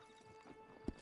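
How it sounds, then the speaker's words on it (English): A horse's hooves clip-clop quietly in a video game as the character mounts up, with a single sharper hoof strike near the end over a faint hum. "Get on the horse there."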